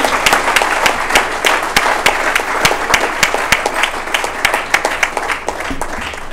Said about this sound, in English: give the biggest round of applause for all our winners